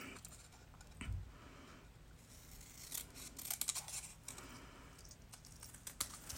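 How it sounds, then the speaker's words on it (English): Scissors cut a paper stamp out by hand, giving scattered crisp snips and rustles that cluster toward the middle and end, close and fairly quiet, with no talk. "You can use the trimmer or you can use scissors and cut it out by hand."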